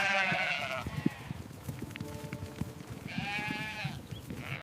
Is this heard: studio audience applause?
no